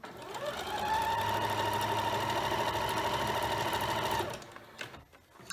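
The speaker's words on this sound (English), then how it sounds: "I'm going to go ahead and sew this together" A sewing machine runs continuously for several seconds, stitching rows of a scrappy quilt block together, then stops, leaving a few quiet handling noises.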